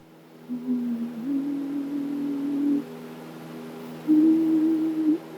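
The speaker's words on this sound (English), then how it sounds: "The ethereal sounds you're hearing being played across the public address system at Tegel" Soft, ethereal sustained sound art drifts and glides slowly, with a hollow, distant quality, played over the public address system at Tegel Airport.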